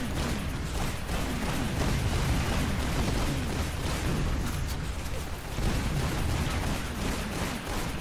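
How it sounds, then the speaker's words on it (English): Rockets fired and exploding in the arena shooter Toxikk, a dense, continuous barrage of loud blasts and bursts layered with game noise, with no pauses across the stretch. "Because he's fucking shooting rockets at me."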